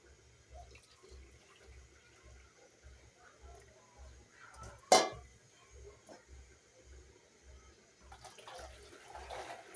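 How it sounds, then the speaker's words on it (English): Very hot water poured and measured into a cup in a home kitchen while making chapati dough: a faint trickling pour with a sharp clink midway, over a low rhythmic thumping hum. "this is very hot water. So I'm going to measure a cup of this."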